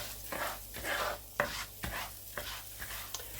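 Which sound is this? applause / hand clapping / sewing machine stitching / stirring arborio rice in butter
stirring arborio rice in butter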